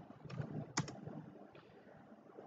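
Soft keystrokes on a computer keyboard while code is being typed, a handful of quiet, irregular taps with a couple of brighter clicks, close and faint in a quiet room.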